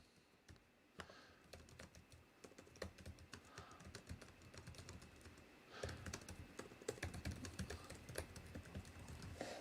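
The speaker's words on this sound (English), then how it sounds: "let me also go ahead and try typing on the keyboard while we're at it." Typing on an MSI Stealth 14 laptop keyboard: a quick, irregular run of light key clicks, fairly quiet and close, with no one speaking.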